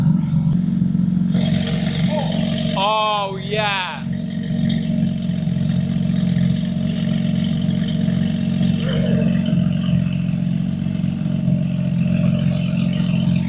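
Porsche GT3 RS in sports mode with exhaust valves open, a steady idle-to-rev engine drone held loud and close throughout, with a brief spoken exclamation early on.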